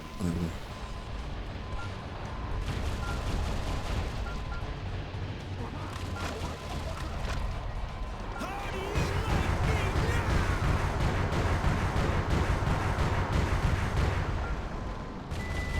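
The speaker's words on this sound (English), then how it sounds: "Let's get our rockets out" Rockets launched in the game Metal Wolf Chaos XD, as dense, continuous blasts and rumbling explosions over heavy game noise and music, loud throughout, with occasional talk mixed in.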